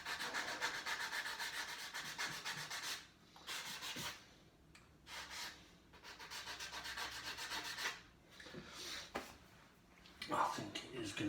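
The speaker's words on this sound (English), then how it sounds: "It depends if I can sand it nice in there." Wood for shelves is being hand-sanded in a workshop. Close, scratchy rubbing strokes come in rhythmic runs, broken by short pauses.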